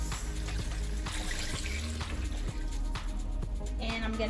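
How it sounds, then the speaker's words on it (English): Water pours into a pot for vegetable broth, a continuous splashing trickle with soft clunks, fairly quiet throughout the short stretch. "And I'm gonna add another 4 cups of water."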